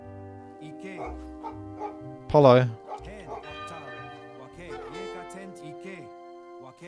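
A dog in the video game Age of Empires 3 lets out one loud, close bark in the middle, with a player talking over game sounds and chiming tones before and after.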